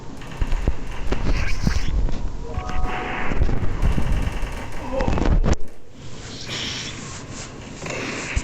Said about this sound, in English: I'm using the poison shotgun.